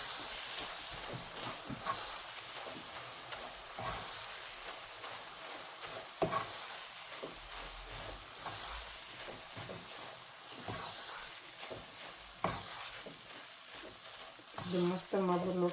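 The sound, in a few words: stirring roasting gram and wheat flour with milk in pan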